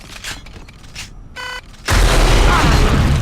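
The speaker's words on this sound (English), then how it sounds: "You can shoot 1 rocket, or 2 rockets, or 3 rockets with the alternate fire." Rocket launcher alternate fire in Unreal Tournament: a short tonal charge-up tone, then a sudden loud booming blast with a sustained rumbling roar that fills the rest of the clip.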